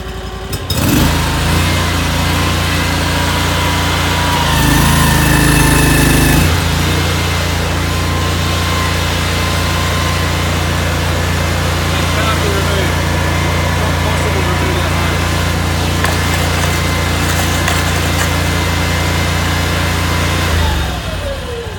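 A water jetter machine runs under pressure as a loud, steady mechanical drone with a low engine-like hum that swells briefly partway through and then holds constant to the end.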